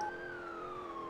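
A steady police siren tone in a GTA roleplay video game holds throughout, slowly drifting in pitch, moderately faint against a low background hum.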